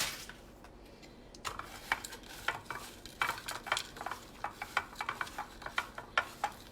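Food tossed into a frying pan for a vegetarian chili mac, giving a run of soft clattering scrapes and light sizzling that grows into rapid, regular taps, close and fairly quiet with no talk.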